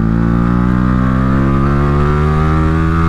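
A modified Yamaha R15 V3 motorcycle with an ARacer RC Super 2 engine computer and quickshifter revs hard while accelerating toward 12,000 rpm, a loud, close engine whine rising steadily in pitch without pause.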